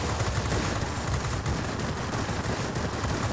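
Ten aircraft guns firing together in World of Warplanes, a loud, continuous rattling burst of rapid gunfire that holds steady throughout, with no talk.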